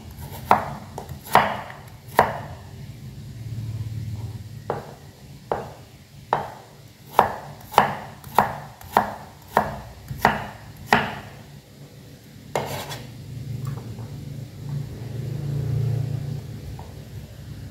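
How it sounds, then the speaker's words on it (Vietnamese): A knife dices beef into small cubes on a cutting board in sharp, distinct chops, some in quick bursts, with quiet pauses and a low rumble between. "Mình thái hạt lựu ra như cái hạt đậu nhé, to hơn hạt đậu một chút."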